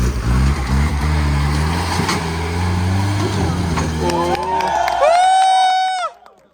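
An off-road vehicle grinds up a slope over tree roots on a wild Wayanad estate, its engine droning low and steady under nearby talk before a high whining tone rises near the end and cuts off.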